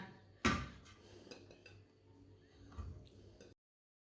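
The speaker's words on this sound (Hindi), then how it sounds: "बैंगन को ना कढ़ाई में डाल लेंगे, ऐसे डाल लेना।" Eggplant pieces drop into an empty metal kadhai wok with a sharp clunk, followed by a few faint ticking knocks and a second duller thud, quiet and close with no talking.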